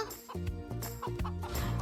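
Cartoon chickens clucking in a busy, rhythmic flurry over a bouncy music bed, the hens scattered loose from a poultry truck headed to a farm.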